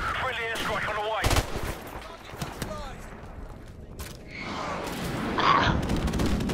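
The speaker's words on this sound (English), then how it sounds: "Friendly airstrike on the way." Airstrike in the shooter game Call of Duty 4 sends heavy booms and bursts of gunfire crashing through the mix, with a sharp blast early and rumbling detonations after, while players talk over the chaos.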